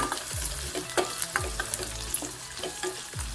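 Urad dal, mustard seeds, onion and dried red chillies sizzle steadily in a hot pan, with a spoon scraping and stirring every second or so in a close, continuous frying hiss.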